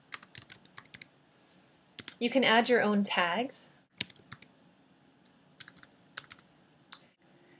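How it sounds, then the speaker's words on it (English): Fingers tap rapidly on a computer keyboard while taking notes, producing bursts of light clicks that come in scattered clusters around a stretch of talk. "and then just start typing your note."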